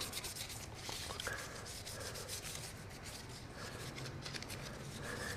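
Oil being rubbed into a Daniel Defense AR15 rifle gives a steady, close, continuous rubbing and wiping friction with soft scraping texture, with no talking.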